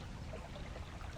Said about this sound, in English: sit and listen to the water